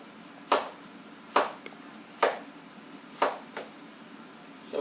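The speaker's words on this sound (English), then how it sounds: "So we're going to make us some fine julienne cuts on some onion." A knife slices through onion into fine julienne strips on a cutting board, with five crisp chopping strokes spaced roughly a second apart, near and distinct over a quiet background.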